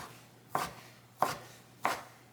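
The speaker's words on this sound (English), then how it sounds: "go ahead and thinly julienne these" Three evenly spaced, crisp knife chops on a cutting board while vegetables are thinly julienned, each a sharp close thunk with quiet gaps between.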